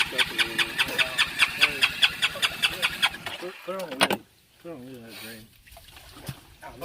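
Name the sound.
Honda engine starting and running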